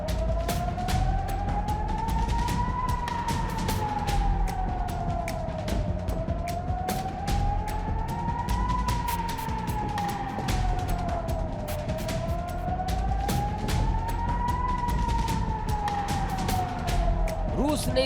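Rescue vehicle sirens wail after a bombing in Ukraine, a loud rising-and-falling tone cycling steadily over several slow sweeps amid traffic rumble, with a voice talking over it.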